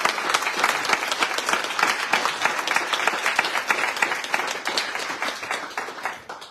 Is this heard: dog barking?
no